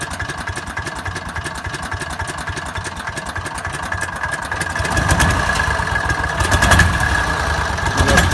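A small COOT ATV engine idles with a steady, buzzing putter that grows louder and rougher partway through, running continuously up close.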